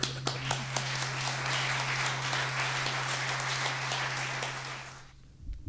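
Applause from an audience at a public meeting, dense steady clapping with a few sharp individual claps on top, holding for about five seconds before fading out near the end.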